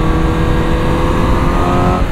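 Honda CBR 1000 RR-R Fireblade motorcycle engine holding a loud, steady high-rev drone, close and continuous with no voices over it.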